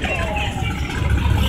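A car rolls past at an outdoor car show, its low engine rumble and road noise steady and fairly close under crowd chatter and nearby voices.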